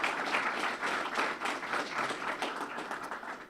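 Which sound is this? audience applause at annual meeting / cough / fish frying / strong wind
audience applause at annual meeting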